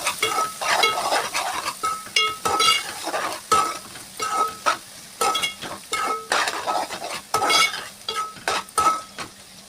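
Rice for egg biryani is mixed in a pan with a metal spoon, heard as rhythmic, close scraping and clinking strokes over a faint sizzle.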